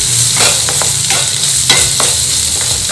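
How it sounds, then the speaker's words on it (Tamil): Chopped carrot, potato and beans sauté in hot oil, with a loud, close sizzle and repeated scraping strokes of a spatula stirring the vegetables in the pan. "இது கொஞ்சம் நல்லா வதக்கிடுவோம்."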